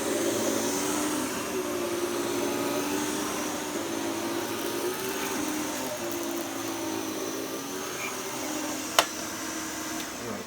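A vacuum cleaner runs steadily while picking up debris, a constant whining hum with a brief sharp click near the end and no talking.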